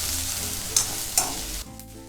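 Tomato, ginger and garlic fry steadily in hot oil for a dhaba-style egg masala, a loud continuous sizzle with two sharp stir bursts before the sound drops off abruptly.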